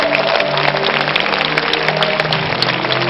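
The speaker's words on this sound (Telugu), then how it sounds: "గట్టిగా చప్పట్లు కొట్టండి." A church audience claps loudly at a pastor's urging, sustained, dense applause that stays strong and even throughout with a faint tonal hum beneath.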